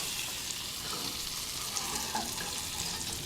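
Cheese toasts sizzle steadily in a pan, a dense even frying hiss with a few small pops, close and moderately loud with no talking.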